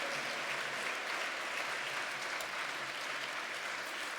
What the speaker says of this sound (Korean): 오늘 시간 하나님께 영광의 박수 한번 돌려드리면서